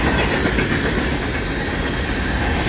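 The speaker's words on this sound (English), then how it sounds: "Symbol on this train is CN 397." CN freight train 397, led by two SD75I locomotives, rolls past near London, Ontario. The wheels clack and rumble loudly and steadily at close range, with no voices.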